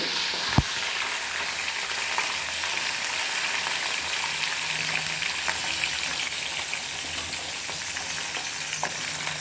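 Small onions and garlic fry in hot oil with mustard seeds for a Tirunelveli-style tamarind curry, a steady close sizzle with occasional sharp pops and light stirring throughout.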